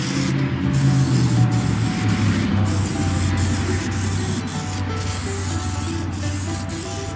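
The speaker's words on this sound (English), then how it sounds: "you got you an aerosol sprayer" A steady hiss of an aerosol olive oil sprayer misting at a cookout, continuous and fairly close, with a low hum underneath throughout.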